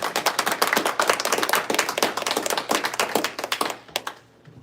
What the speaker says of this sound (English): Round of applause for them all, please.